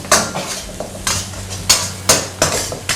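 Chilli and holy basil dry-roasted in a pan with a spatula, giving sharp, clattering scrapes and knocks in an uneven rhythm over a light background hiss.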